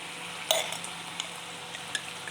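A spoonful of tomato sauce hits a hot pan with a sharp sizzle, then steady frying hiss and light stirring continue alone at moderate level.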